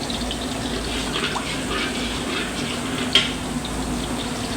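Cumin seeds sizzling in hot oil in a wok, a steady close frying hiss with faint crackles and one small pop.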